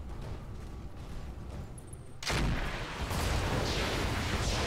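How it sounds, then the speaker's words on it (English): An LRM ammo explosion in a mech video game erupts as a sudden heavy blast partway through, loud rumbling booms and crackling rising over steady background battle noise. "So, LRM ammo explosion."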